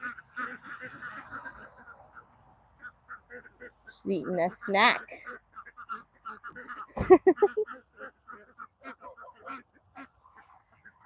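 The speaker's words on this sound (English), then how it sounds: "Oh, look, there's a duck." A duck at a farm during evening chores quacks in a few short, moderately close bursts, with someone talking softly between the calls.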